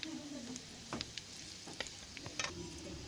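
Black pepper, fennel seeds and cinnamon fry softly in hot oil in a pan, a quiet sizzle broken by a few light stirring scrapes and clicks.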